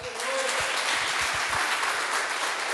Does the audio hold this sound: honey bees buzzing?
no